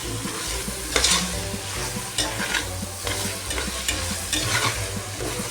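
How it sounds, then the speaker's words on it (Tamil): Coriander and mint leaves sauté for chicken biryani, giving a steady sizzle broken by regular scraping stirs of a utensil in the pan, close and fairly loud, with no talk. "மல்லித்தழையும் புதினா தலையும் போட்டு வதக்கிக்கணும்."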